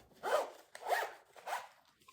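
A zipper pulled three times in quick strokes along a sewn fabric piece, crisp and close, each pull a rasping burst with short pauses between, no talking.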